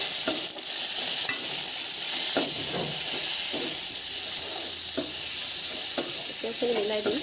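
Cumin and spices fry in a pan for a capsicum dish, with a constant loud sizzle and the irregular scrape and tap of a spatula stirring them close up.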